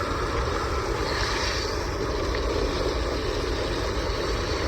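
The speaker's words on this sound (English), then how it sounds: "And I'm just going to wash it down until all the water's clear pretty much." Water hosed steadily over a large 46 by 69 inch rusty metal cross, a continuous rushing, hissing spray that stays even and fairly close throughout with no pauses.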